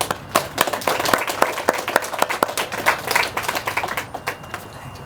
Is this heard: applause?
yes